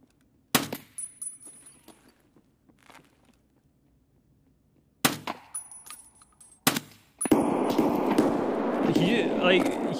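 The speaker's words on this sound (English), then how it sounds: "He's literally shooting me through the wall." Gunfire through a wall in the shooter game Escape From Tarkov: a few sharp, loud shots with gaps of quiet between them, then a sustained noisy burst of action at the end.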